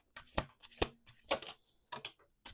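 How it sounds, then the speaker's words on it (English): Tarot cards shuffled by hand in several quick riffling bursts with short pauses between them, close and fairly quiet, with no talking. "Two more shuffles."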